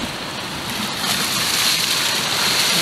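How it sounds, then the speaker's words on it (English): Ocean surf near Sphinx Rock and London Bridge, waves colliding with each other, a steady broadband rush and wash that swells slightly partway through, loud and continuous with no speech. "Those waves are like colliding with each other."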